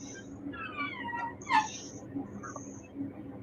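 A man imitates a cat with a few short mewing meows, closest near the middle, heard over a steady low background hum and faint chatter.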